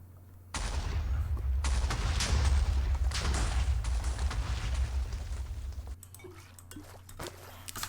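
Explosions go off in the Nether in Minecraft around lava death traps, a long loud rumbling blast with crackling debris lasting several seconds before dying away into quieter crackles.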